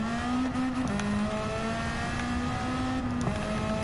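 Steady, loud engine drone with shifting pitch from a Honda S2000 running a turbocharged K24 swap in Gran Turismo 7, holding a revving tone with brief gear changes, no voices.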